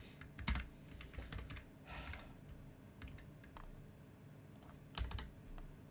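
Typing on a computer keyboard, quiet and close, with irregular bursts of crisp key clicks and short pauses between them, no voices.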